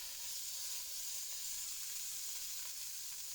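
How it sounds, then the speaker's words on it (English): Lamb searing in hot olive oil in a Dutch oven. A faint, even sizzling hiss holds steady without breaks or voices. "heat up our Dutch oven with some olive oil and just get it nice and hot for a good"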